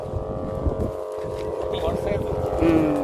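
A steady, droning hum with layered tones holds throughout, like a motorcycle running, from a massive kite humming in strong wind at a kite festival, with gusty rumble and faint voices underneath.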